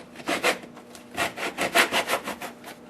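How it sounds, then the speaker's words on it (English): A single-blade hacksaw cuts through a nail in wooden door trim, with quick back-and-forth rasping strokes that repeat steadily at close range, moderately loud and with no voices. "this happens to be just a single bladed hacksaw, and you can go right into the miter"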